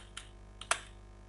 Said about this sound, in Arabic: انا اكتب سريعا